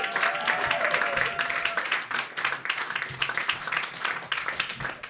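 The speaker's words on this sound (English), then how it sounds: "So start clapping right now for Mike Gamms." A comedy club audience at a roast battle claps for a comedian, dense crowd applause with some whoops rising and flickering over several seconds, no speech over it.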